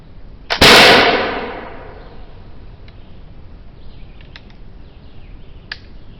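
A single loud, sharp gunshot from a 1730 First Model English musket cracks early on and decays into a long outdoor echo, followed by faint rustling and distant noises.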